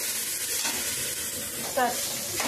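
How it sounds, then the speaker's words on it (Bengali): Spices frying in a pan for chickpea and potato curry give a continuous close sizzle, with a brief stirring scrape near the end. "এবার আমি এটা মশলাটাকে ভালো করে কষিয়ে নেব"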